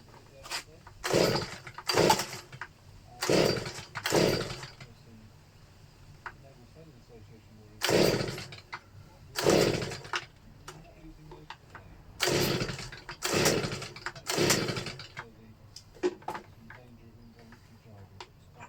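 Stihl BG 56 handheld leaf blower being cranked with the choke on: a series of loud, rough pull-start bursts that sputter briefly and die, repeated about eight times with pauses between, and faint talk in the background.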